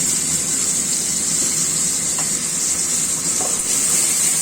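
Panch phoron spices hit hot oil in a pan with a loud, continuous hiss and crackle, steady for a few seconds with a couple of faint clicks and no voices.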